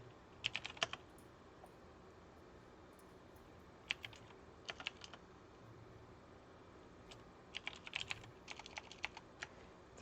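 Quiet, sporadic bursts of typing on a computer keyboard during a programming session, scattered clusters of key clicks separated by pauses over a faint steady background hiss.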